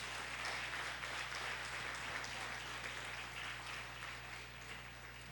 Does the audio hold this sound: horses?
no